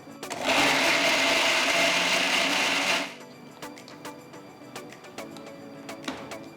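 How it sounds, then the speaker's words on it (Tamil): A blender grinds five chopped medium tomatoes in a mixer jar loudly and steadily for about three seconds, then stops, leaving quiet clicks and small kitchen clatter. "மிக்சர் ஜாரில் 5 மீடியம் சைஸ் தக்காளியை நறுக்கி போட்டு விழுதான் அரைக்க போகிறேன்."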